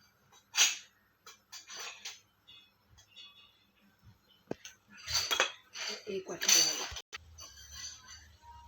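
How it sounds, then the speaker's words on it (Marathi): Spoon scraping and clinking against a metal pot while mixing oil and ingredients for rava chivda, a few sharp clatters in bursts over a quiet kitchen background, fairly close. "आता आपल्याला ते एकत्र मिक्स करून घ्यायचं आहे"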